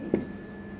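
Writing during a chemistry lecture on chemical kinetics: two brief, close scratching strokes about half a second apart, separated by a quiet pause.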